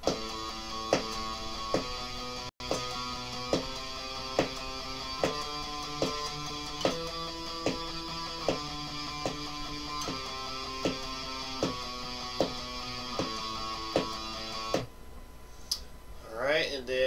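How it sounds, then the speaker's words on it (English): Steady, evenly spaced metronome clicks tick along in 16th notes at a moderate pace beneath a sustained tone, then stop, followed by faint handling noise. "Doing 16th notes, the metronome would sound like this."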